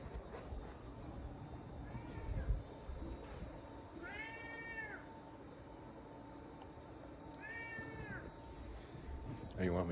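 A pet cat meows three times in distinct drawn-out calls, close by, over a steady background hum and noise with no clear talk.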